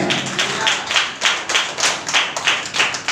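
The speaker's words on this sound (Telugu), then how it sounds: "చప్పట్లు కూడా ఒకసారి" A congregation at a night prayer gathering claps in unison, loud rhythmic beats about three per second, close and steady throughout, with faint voices underneath.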